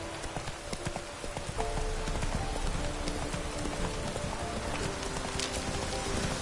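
Fast, continuous hoofbeats of a horse galloping in The Witcher 3, loud and close, set against a dense, noisy outdoor ambience that thickens after the first two seconds.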